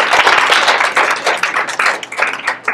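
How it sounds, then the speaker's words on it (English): Close, loud clapping from an audience at a policy event on the Dream Act, in uneven bursts over a few seconds, with no talking. "So please give them a big round of applause."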